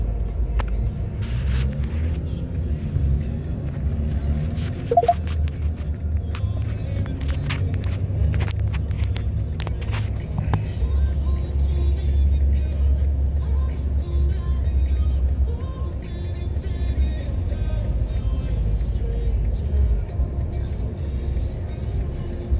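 A BMW self-driving car operated by Aptiv rolls along Las Vegas streets, with a steady low engine and road rumble heard from inside the cabin, brief clicks now and then, and faint voices underneath.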